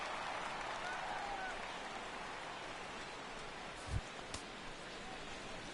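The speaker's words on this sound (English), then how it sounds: "Kelly Epps steps in here to lead off the sixth as the rain continues to fall here" Steady rain falls over a ballpark during a night game in MLB The Show 16, a dense, even hiss filling the whole stretch with a brief thump partway through.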